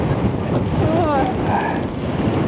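Strong wind buffets the microphone in a constant low roar on the climb up Hoverla mountain, with faint whistling tones rising briefly in the middle.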